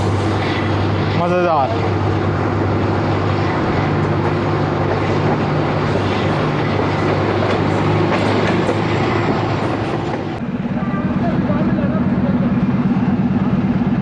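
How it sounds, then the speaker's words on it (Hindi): A ZCU20 diesel locomotive hauling the Ravi Express near Qila Sheikhupura Junction, with a continuous loud rumble of the running train and a brief rising whistle early on; a voice speaks briefly over the noise. "क्या ही म्यूज़िकल विसल है ZCU20 का"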